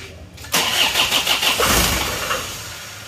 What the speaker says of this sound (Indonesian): Coba lagi yuk, starter yuk.